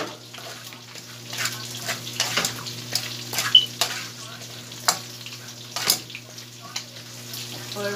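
Okra frying in a pan sizzles steadily at close range, with intermittent stirring scrapes and clicks, under a low background hum and a little quiet speech.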